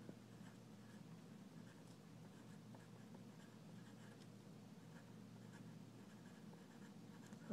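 A pen writing counting numbers on a paper foldable, faint steady scratching strokes against a low background hum, with no talk.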